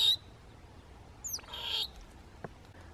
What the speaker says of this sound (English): Now, I just heard a fish eagle. There's a fish eagle.